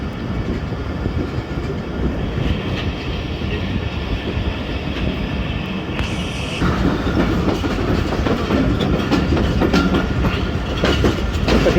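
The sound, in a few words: train arriving at Jhelum station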